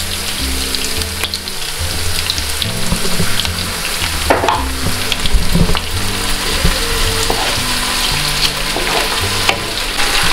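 Soy sauce goes into a hot oiled pan of chop suey stir-fry, setting off a loud, steady sizzle and crackle with stirring scrapes throughout, no talking.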